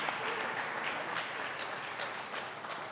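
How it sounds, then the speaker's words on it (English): An audience at a women-in-business startup gathering in Wichita gives a round of applause, a dense, fairly quiet wash of clapping that holds steady for the full few seconds. "Can we give a round of applause for that?"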